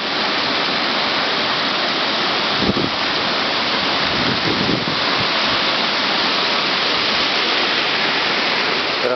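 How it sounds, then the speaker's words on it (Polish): A waterfall in an overgrown spot near apartment blocks in Goleniów roars with a steady, loud broadband rush of falling water that fills the whole clip without a break. "niewątpliwy urok tego wodospadu mógłby być pokazany"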